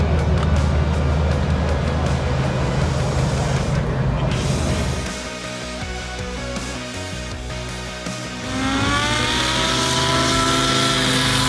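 A loud engine drones close by at first, then drops away and rises again in pitch, as if from a Piper TriPacer powered by a 300-horsepower Yamaha Apex engine at an airshow.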